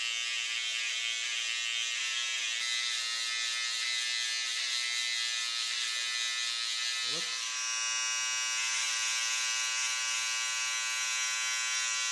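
A steady electric shaver buzz drones continuously at close range, holding an even hum throughout with a slight shift in tone midway.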